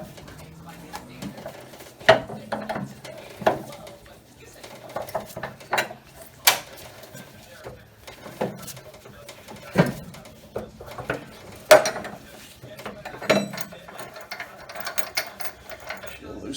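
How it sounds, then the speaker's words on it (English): A coil spring compressor on small-body AMC Gremlin or Hornet front suspension is loosened by hand, giving repeated metallic ratcheting clicks and clanks in uneven bursts, close by, with occasional quiet talk. "now it's time to take our spring compressor loose, and you just loosen it by hand"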